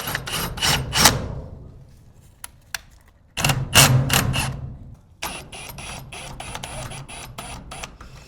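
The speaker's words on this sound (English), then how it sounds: "I'm actually gonna use my drill. And I'm actually gonna set the clutch to say about 8." A cordless drill with its clutch set to 8 drives a screw into a garage door roller bracket: three loud close whirring bursts, with a brief quieter gap and a few clicks between them.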